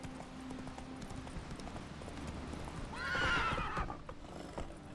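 Roach, a horse in a video game, clops along in rhythmic hoofbeats and lets out a loud, bright whinny midway, the hooves continuing underneath.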